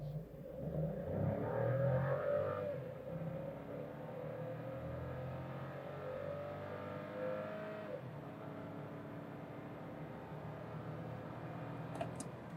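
A car launches hard in Sport mode from a stalled-brake start, its engine rising in a loud, close acceleration that climbs through gears and then settles into a steadier drone; the car is a Volkswagen Virtus 170 TSI or Fiat Cronos Precision CVT.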